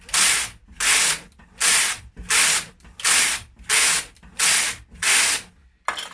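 A Brother KH260 chunky knitting machine carriage runs back and forth over a few needles, making seven evenly spaced bursts of loud ratcheting, rasping clatter with short pauses between passes and no talk.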